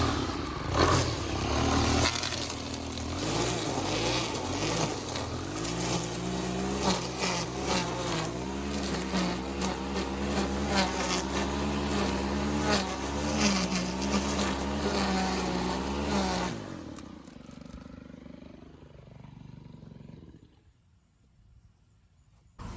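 Edgit Pro power weeder clearing weeds in a garden bed: a loud, close motor whine with scraping and clattering runs steadily for about sixteen seconds, then spins down and fades to quiet.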